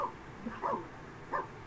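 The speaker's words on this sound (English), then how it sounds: "why are you barking?" A dog gives three short, separate barks or yips at moderate distance, with a quiet room around them.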